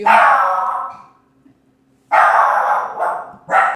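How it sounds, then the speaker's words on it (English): A dog barks loudly and close by in two drawn-out bursts, then a short third bark, with a quiet pause between them and no talking. "Okay, so we might have more barks,"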